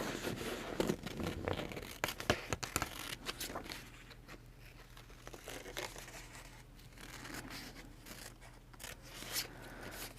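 Sticky paper is peeled and handled up close, giving a series of sharp crinkling and tearing rustles, busiest at the start, then settling into quieter intermittent handling noises.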